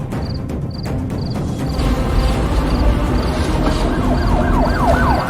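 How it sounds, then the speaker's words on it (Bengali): A police siren wails from a distance, its rising and falling tone repeating over a loud, rumbling backdrop of traffic. "দূর থেকে পুলিশ ভ্যানের সাইরেন শোনা গেল"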